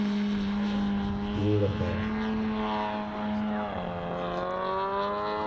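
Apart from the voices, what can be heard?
JR radio-controlled model airplane flying a slow roll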